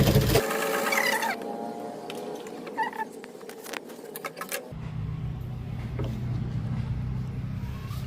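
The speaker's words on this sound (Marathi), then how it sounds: "त्याला फोल्ड करून शिलाई टाकून घ्यायची" A sewing machine stitches a blouse being made in a tailoring class: steady mechanical whirring runs, stops, then a lower steady hum takes over, close and moderately loud, with no talk.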